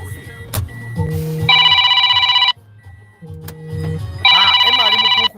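A phone ringtone rings loudly in two repeated bursts of a bright electronic melody, each lasting about a second, with background noise between them and a voice speaking briefly.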